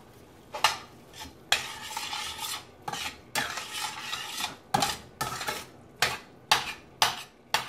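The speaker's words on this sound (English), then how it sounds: "Give that a stir." Spaghetti sauce of San Marzano tomatoes stirred in a pan, repeated scraping strokes of a utensil against the metal, each followed by a bubbling rustle, a steady rhythm at close range with no speech.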